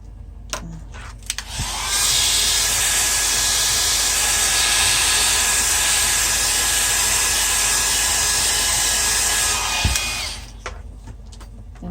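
A hair dryer switched on to spot dry an alcohol ink flower painting, a loud steady blowing whir held for about eight seconds before shutting off, with small clicks and handling noises around it.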